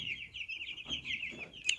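Fifty Cobb 500 broiler chicks cheep continuously in a high, shrill chorus, close and steady, with a few sharper peeps toward the end.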